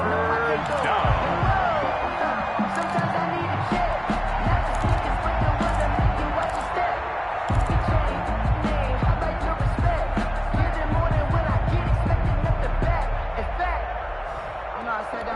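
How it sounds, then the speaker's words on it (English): A stadium crowd roars steadily at an American football game between the Miami Dolphins and Denver Broncos, a dense, loud wash of cheering and noise ahead of a big third down, with a commentator talking over it. "the crowd getting into it as we come up on a big 3rd down"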